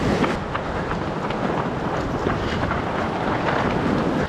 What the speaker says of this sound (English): Some wild gusts of wind.